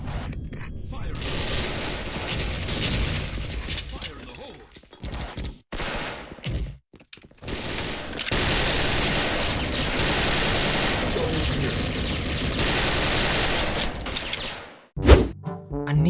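Bursts of rapid gunfire and sustained shooting from a first-person shooter video game, loud and close, broken by short pauses and a sharp grenade blast near the end.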